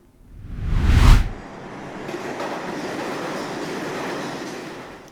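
A train pulls into a Japanese railway station, a brief loud whoosh followed by a steady, moderately loud rolling rumble with no talking.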